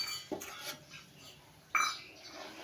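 Tied flat beans dropped into a pot of cooking rice, two distinct clinking, scraping hits against the metal pot separated by quiet, close and fairly soft.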